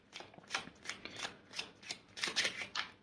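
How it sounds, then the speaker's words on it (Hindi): Tarot cards are shuffled and pulled from the deck, heard as a quick run of soft, close papery riffles and flicks, about a dozen brief bursts in rhythm, quiet and without talk. "कुछ और कार्ड्स पुल करके देखते हैं"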